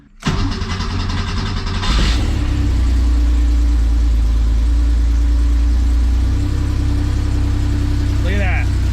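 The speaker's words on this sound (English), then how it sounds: "let's see if this thing starts" An air-cooled Porsche 911 flat-six, unstarted for months and freshly fueled, cranks briefly and fires right up, then settles into a loud, steady, close idle with a faint voice near the end.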